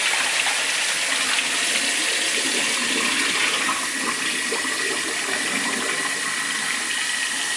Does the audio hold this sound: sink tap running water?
yes